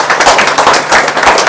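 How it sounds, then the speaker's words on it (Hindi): Loud, close applause from a seminar audience in Bhager, Bilaspur, Himachal Pradesh, a brief burst of dense clapping. "एक बार जोरदार तालियां इनके लिए होना चाहिए।"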